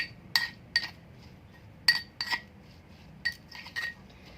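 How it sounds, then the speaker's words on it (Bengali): A spoon clinks against a pan while mixing mashed bharta, a crushed (chhecha) Tripura-style mash, giving about six or seven sharp metallic taps at irregular intervals over a quiet background. "তো আমি চামচ দিয়ে একটু এটাকে মিশিয়ে নেব"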